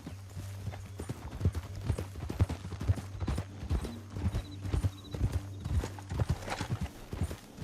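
Horse hooves clip-clop steadily at a walking pace in the Red Dead Redemption 2 video game, close and clear over a low droning background, with a brief whinny.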